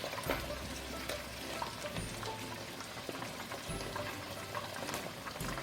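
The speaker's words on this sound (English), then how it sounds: "So I'm giving it a nice stir." Beef and chopped onions sizzling and bubbling in a pot as they are stirred, a steady close crackle and wet spatter running throughout with soft scraping bumps, no voices.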